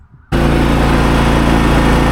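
A riding lawn mower engine cuts in abruptly after a brief quiet moment, then runs loud and steady with a droning harmonic hum close to the listener, no speech over it.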